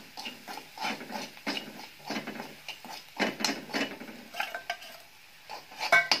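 Red chilli powder, turmeric and salt are stirred into a rajma and green pea curry, producing a quick, rhythmic series of close scraping and clacking spoon strokes against the pot, without voices.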